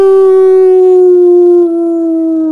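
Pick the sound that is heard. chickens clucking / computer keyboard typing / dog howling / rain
dog howling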